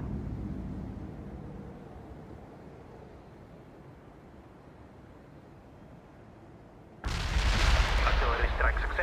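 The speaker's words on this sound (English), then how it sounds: "Artillery strike successful." Artillery strike in the war video game World in Conflict, a low rumbling bombardment that fades for several seconds before a sudden loud, dense burst of blasts and crackling debris near the end.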